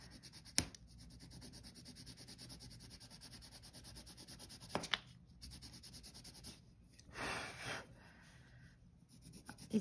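Bright coloured pencils scratch and rub across paper in soft strokes, with a few sharp taps and a louder, busier patch of shading near the end, quiet and close.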